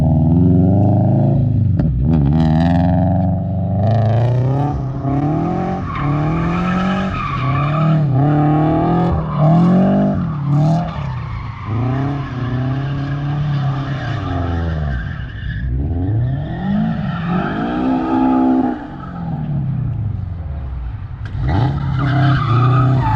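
Subaru BRZ sliding through drifts with long, loud, wavering tire squeals layered over a revving engine, surging and easing repeatedly for over twenty seconds without any talking.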